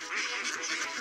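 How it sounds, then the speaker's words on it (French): Ducks quacking at a pond, a dense, continuous burst of nasal calls packed close together, fairly faint and heard alone. "Oh, mais c'est la famille canard."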